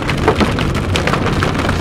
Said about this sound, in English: The hail soon arrived, restricting our view of the cell.